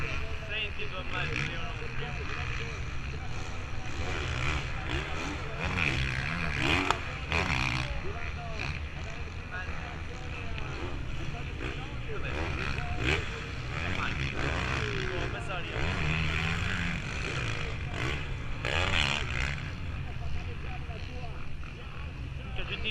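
A motocross motorcycle engine at an international MXGP race in Riola Sardo, 2018, roars and revs loudly throughout, with wind buffeting and a voice occasionally audible beneath the noise.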